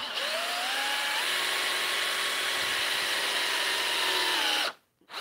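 A power drill bores a small pilot hole in wood in a wood shop, its motor whining steadily and close for several seconds before it cuts off abruptly.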